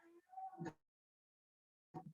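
A cat meows in a biology classroom, one drawn-out meow and then a short second one after a pause. A faint voice sits underneath at the start, and the room is otherwise quiet.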